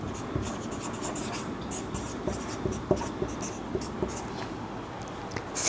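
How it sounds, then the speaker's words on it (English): Chalk or marker writing on a board, a faint run of scratchy strokes and light taps over a quiet room hum, with no speech. "Let's write."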